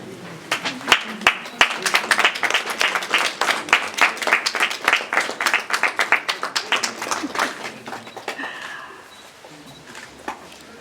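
Audience applause at a Ukrainian vybiika (block-printing) master class, dense rapid clapping from a group close by that runs steadily and then thins out toward the end.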